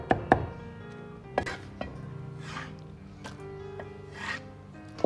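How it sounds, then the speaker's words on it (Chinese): A knife dices tomato on a chopping board: a few sharp, close chops and taps, spaced irregularly between softer rubbing and scraping sounds. "再改刀切成薄片，最后再切成小丁。"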